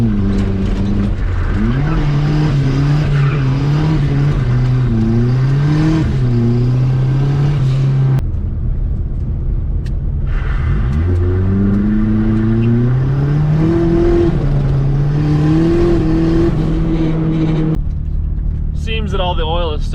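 A turbocharged Nissan Hardbody pickup revs hard at full steering lock during a transmission test, its engine note climbing and falling in loud, sustained sweeps for about twenty seconds, with a short dip in the middle.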